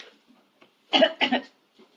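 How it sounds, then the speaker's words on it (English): Two quick, husky coughs in close succession, near and fairly loud, in an otherwise quiet room. "You're coughing a bit there."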